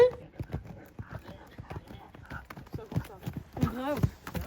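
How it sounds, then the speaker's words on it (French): Horse hooves clip-clopping in a quick galloping rhythm, close by, under a person talking and some voice sounds. "Suite à ça, on a refait des petits départs au galop, où Pedro a fait encore son petit cochon."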